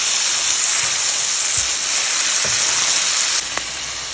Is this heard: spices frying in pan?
yes